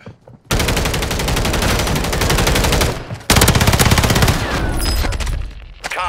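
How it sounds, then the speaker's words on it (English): Automatic weapon fire from the video game Call of Duty rattles loud and close in two long sustained bursts of rapid shots, broken by a brief pause. "I come back and I just shoot now again."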